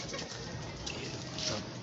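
Pigeons, one of them sick, coo softly nearby against a low background hum, brief murmuring calls with no clear speech.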